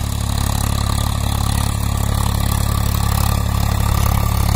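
A Swaraj 744 XT tractor engine idles steadily up close, a constant low rumbling chug with no change in pace.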